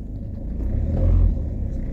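A car engine rumbles and builds up speed as it accelerates during a driving lesson, heard from inside the vehicle as a low, close, steady drone that swells briefly in the middle, with no talking.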